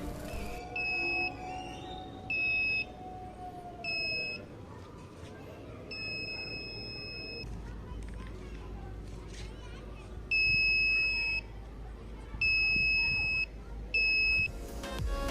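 A buzzer on a homemade social-distancing cap science project sounds in repeated loud electronic beeps, some short and some held for a second or more, over room noise and background voices.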